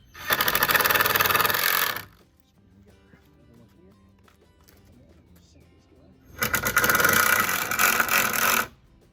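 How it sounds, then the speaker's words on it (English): Power driver sinking the last screws into a pallet wood Adirondack chair: two sustained loud bursts of whirring drive, each about two seconds, separated by a quiet stretch of faint workshop rustle. "Right, so now we're popping those final screws here."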